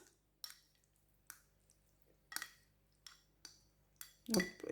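Corn kernels tipped into a cold tuna pasta salad with halved green olives give a few soft, wet plops and faint clinks spaced apart, closing with a louder squishy rustle, quiet and close.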